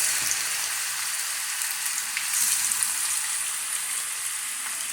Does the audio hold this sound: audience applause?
no